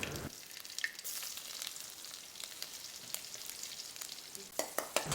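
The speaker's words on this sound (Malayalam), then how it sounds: "കടുക് നന്നായിട്ടൊന്ന് പൊട്ടി വരണം ഇതിലേക്ക് നമ്മൾ നാല് ചെറിയ ഉള്ളി അരിഞ്ഞത് ചേർത്ത് കൊടുക്കണം" Mustard seeds crackle and sputter in hot oil with chopped small shallots frying alongside for a Kerala banana flower stir fry, a dense continuous sizzle dotted with sharp pops, growing busier near the end.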